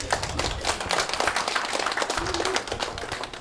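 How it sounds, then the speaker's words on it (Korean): Applause from a crowd at a Korean joint campaign rally speech, dense continuous clapping sustained throughout, fairly loud and unbroken with no talking. "박수 부탁합니다."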